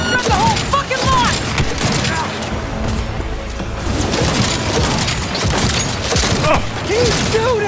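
Loud, dense gunfire from the video game Cyberpunk 2077 during an assault on the Arasaka corporation, with continuous shots and blasts filling the whole stretch, mixed with game music, effects and shouting voices.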